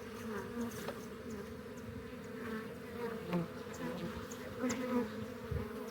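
A honey bee swarm buzzing steadily and closely during a swarm catch, a dense continuous drone of many wings with small rises and falls throughout.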